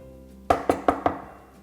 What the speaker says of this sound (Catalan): Però es va esconsar que algú va trucar a la porta.